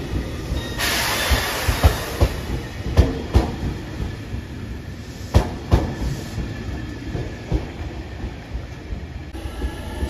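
A JR Shikoku 8000 series electric limited express, the Ishizuchi No. 1 bound for Matsuyama, running at a station: a loud steady rumble with rhythmic wheel clacks and hissing, heard close with no voices.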